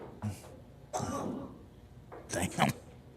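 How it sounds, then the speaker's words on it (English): A man's harsh smoker's cough in a pool hall during a 10-ball billiards championship, a few rough bursts some distance off with a voice mixed in. "That's a smoker's cough right there."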